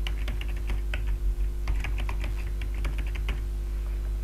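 Rapid, irregular keystrokes as a password is typed on a computer keyboard, clicking in short bursts with brief pauses over a steady low electrical hum, no voices.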